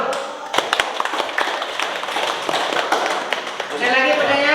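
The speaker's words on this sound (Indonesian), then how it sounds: "Tepuk tangan dulu." Students in a classroom clap their hands during a group presentation, a scattered burst of claps with overlapping chatter and voices throughout, ending as talking takes over.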